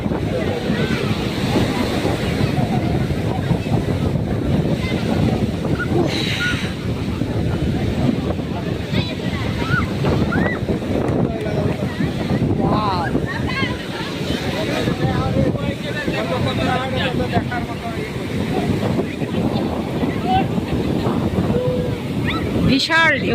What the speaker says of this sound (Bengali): বিশাল ঢেউ দেখো।